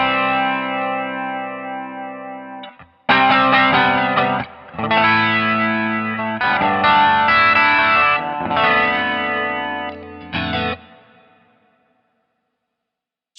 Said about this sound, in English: So let's just try to get some flanger sounds.